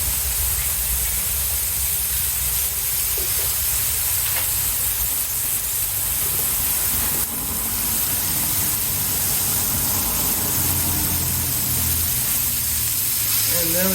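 Six smashburger patties hit a griddle set to medium, giving a broad steady sizzle and hiss close by, with some faint background voices mixed underneath.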